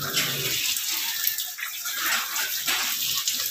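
Water gushes and splashes continuously into a trough for a sow, a steady rushing pour with no talking.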